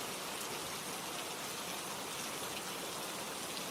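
Steady, even patter of rain falling, a soft continuous hiss with no other sounds.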